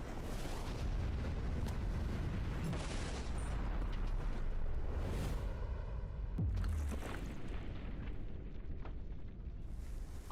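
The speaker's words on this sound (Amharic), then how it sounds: "ይህ ግን እውነተኛ ፍንዳታ ነው።" A huge blast tears through a store setting, a dense, rumbling roar of explosion and debris that stays loud across the whole stretch, with several sharper bursts and crashes inside it and no voices.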